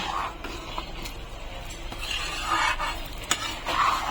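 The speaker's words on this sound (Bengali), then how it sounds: "এবার ভালো করে মিশিয়ে নেব।" Sabudana khichuri being stirred in a pan with a soft, steady sizzle underneath, occasional scrapes and light knocks of a spoon against the pan, fairly quiet and close with no talking.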